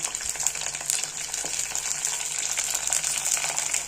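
Coriander, mint and curry leaves crackle and spit in hot oil, a steady close sizzle with scattered sharp pops and no voices.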